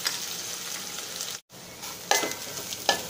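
Grated coconut and onions sauté in a hot pan, a close steady sizzle broken by a brief gap and then a few louder scraping stirs near the end.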